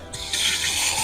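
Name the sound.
water filling rose sprayer tank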